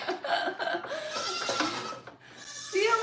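Goats bleating on a goat farm, several close, shaky cries in quick succession with a louder bleat at the end.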